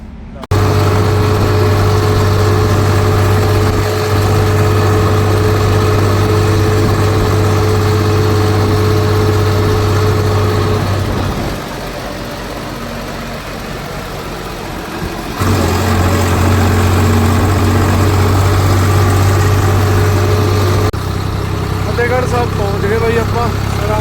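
A tractor engine drones steadily and loudly nearby, easing off briefly before the chugging returns, with voices at times.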